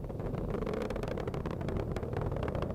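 Falcon Heavy rocket engines during ascent, a dense, steady roar with crackling texture, loud and continuous throughout without any voices.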